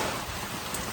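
Steady rain falls in a village courtyard in Mandvi, a dense even hiss of drops on surfaces with no voices.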